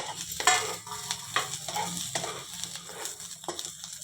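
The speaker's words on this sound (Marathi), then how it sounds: "थोड्या भाजल्यानंतर भेंड्या त्याच्यामध्ये आपण जे आपले ताटातले बी आहेत ते आपण त्याच्यामध्ये टाकून परत एक वेळ सगळं भाजून घ्यायचं आहे" Okra with its seeds being dry-roasted in a pan, a steady sizzle under repeated scraping strokes of a spatula against the metal, several distinct clinks and scrapes close by, no speech.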